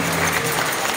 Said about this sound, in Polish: Wielkie brawa dla Szymona.